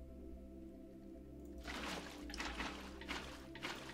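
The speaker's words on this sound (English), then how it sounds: "Fill everything with water." Water pouring in quick bursts as cauldrons are filled in Minecraft, soft splashy gushes starting partway through, repeated several times over a low background tone.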